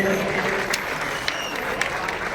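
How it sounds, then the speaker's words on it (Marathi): Audience clapping steadily at a live shahiri folk performance in Ratnagiri, a dense, continuous patter of many hands with a few sharper claps standing out, fairly close and unbroken throughout. "एकदा जोरदार टाळ्या होऊ द्यात"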